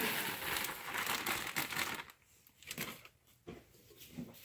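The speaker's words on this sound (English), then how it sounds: "you'll want to add the whole bag of marshmallows to your pan" A whole bag of marshmallows crinkles loudly as it is emptied into a pan of melted butter, dense plastic rustling that drops to a few softer crinkles toward the end.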